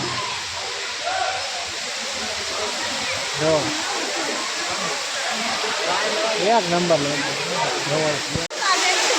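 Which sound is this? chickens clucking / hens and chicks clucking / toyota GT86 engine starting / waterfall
waterfall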